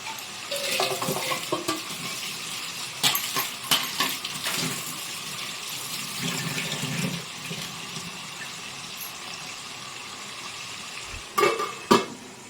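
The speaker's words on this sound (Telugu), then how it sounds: "ఒకసారి కలుపుకొని మూత పెడదాము. మగ్గుతూ ఉంటాయండి." Prawn legs curry with onions stirred in a pan, a soft scraping stir and faint sizzle with occasional clinks of utensil on metal, then quieter simmering; no talking.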